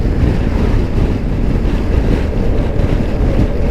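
Motorcycle ridden fast on an open national speed limit road, heard as a constant loud roar of wind buffeting the microphone that buries any engine note.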